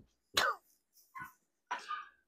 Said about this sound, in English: You hear that dog out there?